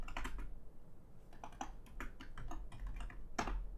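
Computer keyboard keys tapped in short irregular clusters while entering Blender shortcuts, crisp clicks at close range with quiet pauses between bursts and no talking.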